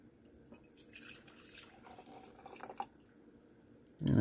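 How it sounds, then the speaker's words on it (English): Liquid trickles and drips as a sodium nitrite solution is poured into a 500 milliliter beaker, faint and intermittent, ending in a louder splash. "I'm going to transfer it to a 500 milliliter beaker"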